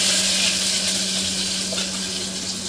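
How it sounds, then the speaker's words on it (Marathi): Cumin seeds crackle and sizzle in hot oil for a Marathi-style tempering of whole masoor dal, a steady dense hiss held close and loud throughout, with a faint low hum underneath and no talking. "आता इथे फक्त जिऱ्याची फोडणी घालणार आहे."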